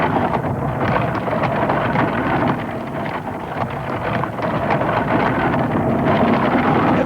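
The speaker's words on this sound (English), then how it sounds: "Ooh, it's starting to get windy." Wind gusting across a Kansas farm as a storm builds in a 1982 animated Wizard of Oz film, a steady rushing roar with rumbling low end, continuous and fairly loud, no voices.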